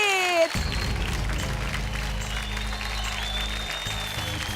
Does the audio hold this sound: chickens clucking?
no